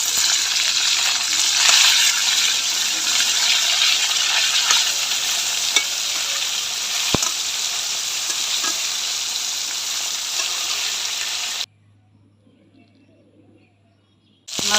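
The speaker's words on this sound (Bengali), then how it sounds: "সবগুলো মাছটা দিয়ে একবারে ভেজে নিব।" Whole katla fish pieces fry in hot oil with a loud, steady sizzle and faint bird calls in the background. Near the end the sizzle cuts to near silence, then briefly returns.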